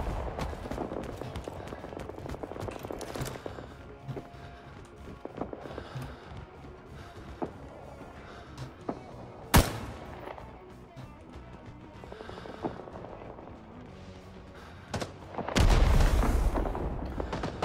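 Rising Storm 2: Vietnam urban firefight: sharp semi-automatic shots crack singly at irregular intervals amid steady battlefield noise, with one very loud close report midway and a heavier burst of fire near the end.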